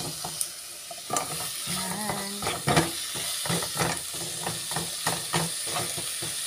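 Tomato, onion, garlic and pork ribs are stirred in a hot pan over high heat, with a steady frying sizzle and repeated scraping, clattering strokes of the spoon against the pan.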